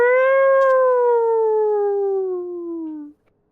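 A human voice imitates a siren with one long wailing tone that slowly falls in pitch for about three seconds before cutting off, loud and close with no other sound.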